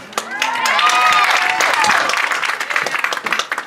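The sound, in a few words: audience applause for 2015 band seniors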